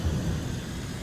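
Steady rain with a deep rumble of thunder in the farming video game Farming Simulator 22, a continuous loud wash of low roar and hiss filling the whole moment with no voices.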